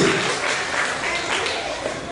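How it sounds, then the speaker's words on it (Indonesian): Audience applause for a team at a village quiz contest, a dense continuous patter of clapping at moderate volume filling the hall throughout. "tepuk tangan untuk kelompok C"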